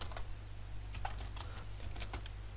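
Quiet, steady clicking of a computer keyboard as code is typed, a loose run of keystrokes over a constant low electrical hum, no speech.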